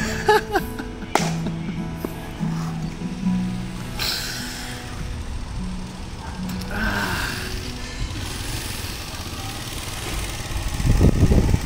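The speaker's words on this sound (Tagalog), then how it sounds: "Dumaan na motor." A motorcycle goes by outdoors, its engine drone rising and falling in the distance before building louder near the end, with scattered background sounds and brief voices around it.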